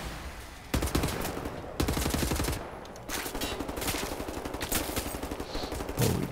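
Gunfire rattles in the first-person shooter Wolfenstein: The New Order, loud and sustained, with rapid automatic bursts and heavy shots repeating almost without a break.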